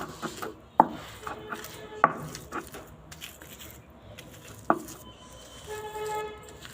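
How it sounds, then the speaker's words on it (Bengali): Chilli and garlic are ground together on a stone grinding slab, with three sharp stone knocks spread apart and softer rubbing scrapes between them, close and fairly quiet. "মরিচ, রসুন একসঙ্গে বেটে নিচ্ছি।"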